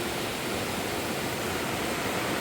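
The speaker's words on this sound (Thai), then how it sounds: "เสียงน้ำตก" Steady, broadband rush of Huai Mae Khamin waterfall in Kanchanaburi, a dense continuous roar with no breaks and no voices.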